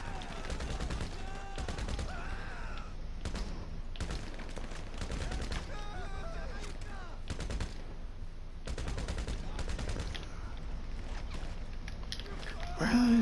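Gunfire in the video game GTA 5 during yacht missions, with repeated bursts of rapid automatic shots coming in clusters across the stretch, loud and close, and a voice talking at times.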